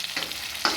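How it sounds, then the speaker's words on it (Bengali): Boiled potatoes fry on high heat with garam masala, giving a short burst of close, steady sizzling with a quick stirring scrape near the end. "আলুগুলো একটু লালচে লালচে করে ভাজার জন্যে"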